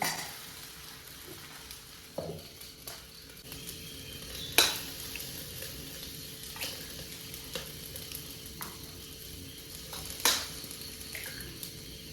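Egg frying in the same hot pan just used for baking appam, a steady soft sizzle broken by a few sharp clinks and scrapes of a utensil, close by with no talk.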